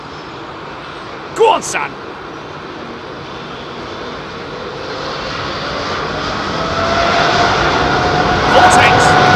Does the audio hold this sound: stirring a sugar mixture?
no